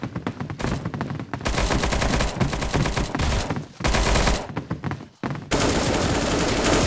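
Dense bursts of gunfire from the mobile shooter Bullet Angel in a team gun game mode with a pump shotgun, loud automatic rattles and shots nearly continuous with brief gaps, no talking.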